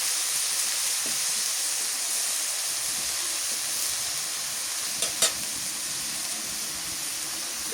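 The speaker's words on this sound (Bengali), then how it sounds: "তেলের মধ্যে ভালো করে নাড়াচাড়া করে কষানো" Spices stir-fry in hot oil in a pan with a loud, continuous sizzle and hiss, broken by a couple of brief stirring clinks and scrapes near the end and no talking.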